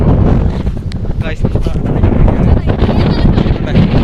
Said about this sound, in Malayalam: അമ്മാതിരി കാറ്റാണ് ഇവിടെ